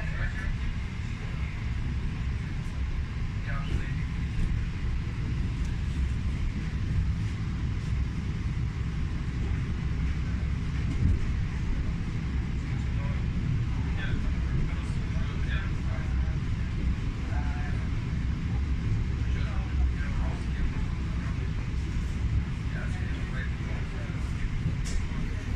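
A Russian Railways electric train running, heard as a continuous low rumble and roar with faint higher rattles and squeaks, steady and fairly loud throughout.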